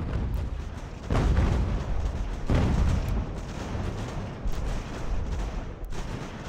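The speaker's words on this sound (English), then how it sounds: "Your mortars. Keep firing." Mortar fire in Ultimate General: American Revolution lands as heavy, booming artillery blasts, two strong reports standing out among fainter distant thuds and crackling volleys of musketry.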